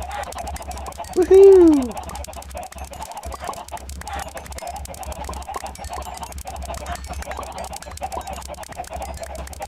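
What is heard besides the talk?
chickens clucking in Minecraft video game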